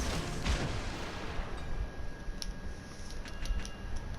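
Warship guns fire in a World of Warships Legends naval battle, with repeated booming shots and sharp cracks over a steady rumble of sea and engine noise.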